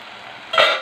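Spinach curry being stirred in a pan, a soft steady scraping and faint sizzle that swells sharply louder near the end as the spoon moves through the leaves.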